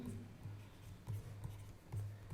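Marker or chalk scratching across a classroom board while a chemical formula is written, a series of short repeated strokes close up, with no talk over them.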